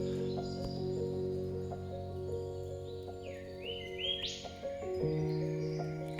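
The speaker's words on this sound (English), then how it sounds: "You can hear a catbird in the distance there." A catbird calls faintly from the distance in rainforest, a few short rising cries standing out briefly over a steady droning background hum.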